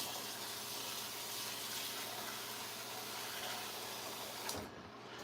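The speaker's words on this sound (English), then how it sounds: "let me put a little bit more water in this rice." Water poured into a pot of cooking rice on a home stove, a steady broadband wash of pouring and sizzle running nearly the whole time, ending in a brief clunk near the close.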